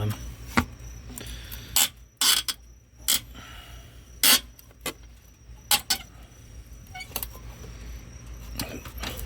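A wrench working the large 10 mm hold-down bolt on a Toyota RAV4 car battery, giving sharp metallic clicks and clanks in irregular bursts over quiet background, close by.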